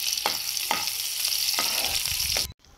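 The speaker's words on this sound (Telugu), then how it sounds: "ఇప్పుడు ఒక ప్యాన్ పెట్టుకొని అందులో ఆనియన్ వేసి కొద్దిగా ఫ్రై అయ్యే వరకు ఫ్రై చేయాలి." Onions fry in a pan with a steady, close sizzle. About four soft scrapes of stirring recur at a regular rhythm before the sound stops abruptly.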